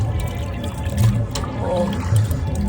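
Raw chicken pieces being washed with running water in an outdoor village kitchen, a continuous splashing and sloshing of water with a few louder surges, close by.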